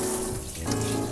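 Hot water runs from a tap and pours over dried currants for reconstituting before going into lamb meatballs, a steady close splashing flow that deepens in tone partway through.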